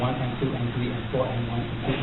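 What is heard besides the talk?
No everyday noises stand out.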